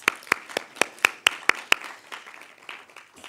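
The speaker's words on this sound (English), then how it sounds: "Can we give Dr. Vati Zamxaka's team a round of applause" A small audience at a research event claps, with a handful of distinct, sharp hand claps in an irregular rhythm that thin out and fade after a couple of seconds in a quiet room.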